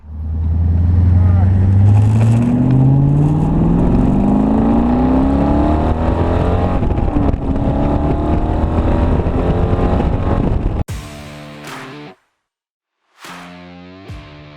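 A 1969 Corvette convertible's engine revs and accelerates through rising gears with a deep rumble, then cuts out abruptly; a voice follows with brief pauses.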